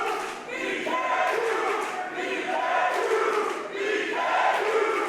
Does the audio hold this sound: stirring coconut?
no